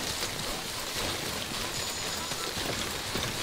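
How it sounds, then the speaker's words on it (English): Steady rain in Death Stranding, a dense, even hiss of falling drops with a faint high tone briefly sounding over it. "The rain is gonna ruin everything"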